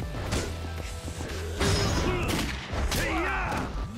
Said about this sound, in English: I didn't even know there were shotguns in the game